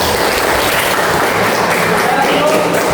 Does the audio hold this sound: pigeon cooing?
no